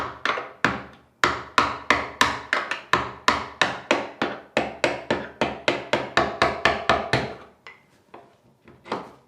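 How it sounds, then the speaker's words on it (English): Hammer tapping a screwdriver set under the top of a door hinge pin to drive it out: a quick run of about twenty sharp, close metallic taps in steady rhythm, easing off into a few scattered lighter knocks. "just take your hammer, tap your screwdriver"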